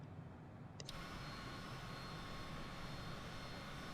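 Business jet engines in a flight simulator game, a loud steady broadband roar that swells in abruptly and then holds constant and close.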